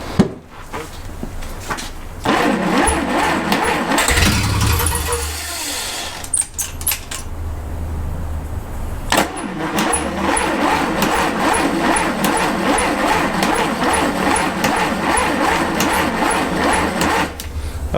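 Rebuilt engine of a 1948 Dodge sedan cranking on its first start, loud starter churning in repeated bursts with a short pause, then a long run of rhythmic cranking and sputtering.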